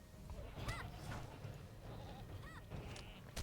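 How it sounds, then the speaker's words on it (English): Goats bleat in a video game festival scene, several short wavering calls scattered across a steady background of game ambience and low rumble, moderately close and fairly quiet. "But first, we got to deal with these goats."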